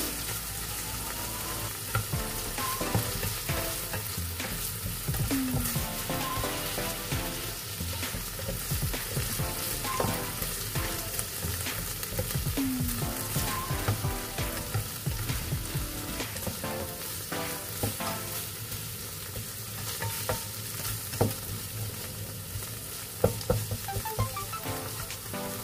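Diced tomato, garlic, onion and pork sauté in a pan for ginisang monggo, a steady close sizzle running throughout with occasional scrapes and stirs of the utensil.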